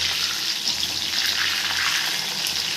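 Small prawns fry in bubbling oil with a constant, loud hissing sizzle that stays steady and unbroken the whole time, close up and without talk.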